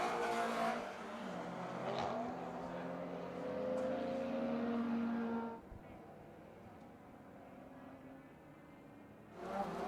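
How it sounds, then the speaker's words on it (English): A Subaru WRX and a Honda S2000 race at Buttonwillow during a time-attack finals session, heard as engine roar and passing cars that fade into a distant drone, with commentary running over them. "Subaru followed by a Subaru followed by an"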